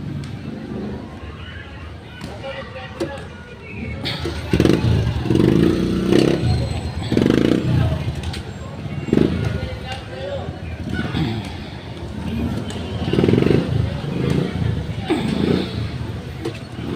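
A motorcycle tricycle engine idles and revs in a crowded queue of tricycles, a rough rumbling drone with clattering and a few surges, while someone speaks over it.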